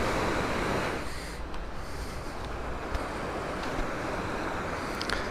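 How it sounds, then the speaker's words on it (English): Steady broadband rushing water roars continuously, like a swollen river heard from nearby, with some wind buffeting the microphone. "The river's in spate right enough."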